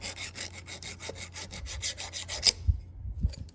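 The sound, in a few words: hand file filing down chainsaw kicker teeth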